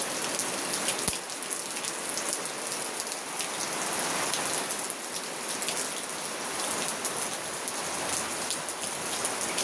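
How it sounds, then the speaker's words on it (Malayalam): Steady rain pours down outdoors in the morning, a dense, even hiss of drops striking surfaces that continues without a break throughout, fairly soft and with no voices. "ഇത്രയും നല്ലൊരു മഴ പെയ്യുന്നേ"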